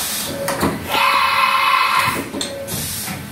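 Haas VF-6SS 4-axis CNC vertical mill's tool changer returning an empty pocket, with a short run of mechanical clunks, a whirring carousel motion in the middle and a few thuds at the end, fairly close.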